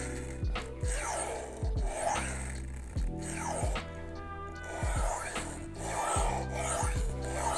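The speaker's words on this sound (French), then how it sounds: "le fusil en acier, en céramique ou en poudre de diamant, qui est de forme ronde, avec lequel vous allez pouvoir très facilement aiguiser" A bird's beak knife is drawn along a round honing steel, giving repeated rasping strokes in a steady rhythm, close and moderately loud, with no voices.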